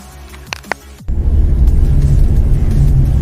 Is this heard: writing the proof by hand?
no